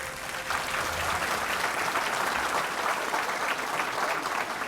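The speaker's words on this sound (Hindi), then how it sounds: "एक बार तालियां बजा दें ताकि उनको लगे हम उनको याद कर रहे हैं।" A large audience at a Hindi public gathering applauds steadily in tribute to Kalyan Singh. The dense, even clapping carries on for several seconds without a break.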